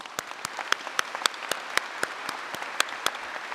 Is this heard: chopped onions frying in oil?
no